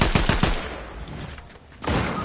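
Sniper gunfire in the Fortnite video game: a rapid burst of three sharp shots at the start, then a quieter gap and a fresh loud burst of noise near the end.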